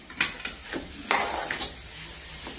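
Spoon clinking and scraping against a pan while cooked potato is mixed into pea filling, several light metallic taps and scrapes spaced irregularly at close range, with no talking.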